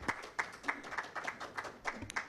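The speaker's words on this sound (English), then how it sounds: "A round of applause to Arthur." Scattered clapping from a conference audience, a few sparse claps repeating irregularly, faint and thin rather than a full ovation.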